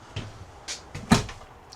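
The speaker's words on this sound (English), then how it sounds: "Pocket door." A pocket door in the bathroom of a 2026 Jayco Eagle SLE 28BHU fifth wheel slides with soft rustles, then gives one sharp knock as it stops, faint and close in a quiet room.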